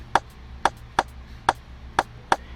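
A programmed Afrobeats rimshot pattern built in FL Studio 20 plays alone: six crisp, woody clicks at a steady, evenly spaced pulse over a faint low hum.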